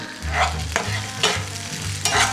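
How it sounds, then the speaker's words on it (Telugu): Crushed dried red chilies fry on a high flame for street-style Apollo chicken, with a loud, close sizzle. Three or four scraping bursts from a stirring spoon come over a low rumbling burner. "రెండు ఎండుమిరకాయలు చిదుపుకుని వేసుకోవాలన్నమాట. కొంచెం హై ఫ్లేమ్లో పెట్టుకుని"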